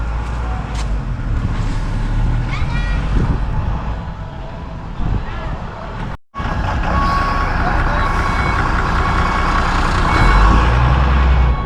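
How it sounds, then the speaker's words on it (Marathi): A large sand delivery truck pulls in close and loud, its engine rumbling steadily with a broadband roar throughout, while a brief dropout interrupts midway; reversing beeps are suggested but not clearly distinct. "तर वाळूचा ट्रक आलेला आपला बघा आता"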